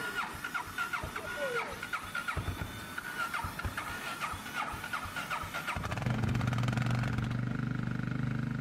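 A motorcycle engine cranks and sputters in freezing Siberian winter cold, then catches and settles into a steady idle, close by and loud.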